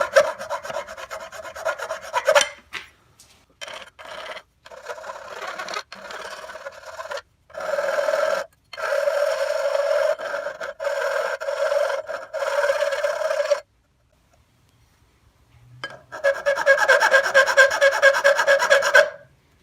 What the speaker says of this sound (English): I'm going to file that. Just mellow it out and then it'll wear a bit.